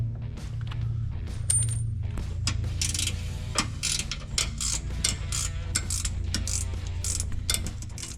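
Metallic clicks, clinks and ratcheting from loosening two 10mm bolts on the steering gearbox of a 2021–2024 Jeep Wrangler 392, with a steady low hum underneath throughout.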